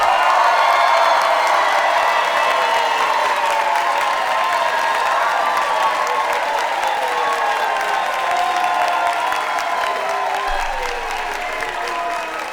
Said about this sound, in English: Why would y'all start clapping?